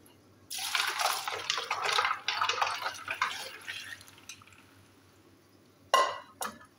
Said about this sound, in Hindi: ये पानी अभी हम लोग इसमें उंडेल देंगे।